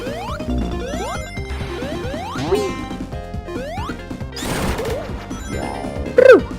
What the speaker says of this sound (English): Is there any noise more satisfying than like hitting like 5 or 6 of those little TVs?